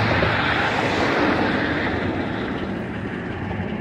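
A steady, broad roar of an aircraft passing overhead, loud at first and easing slightly as it moves away, with no voices.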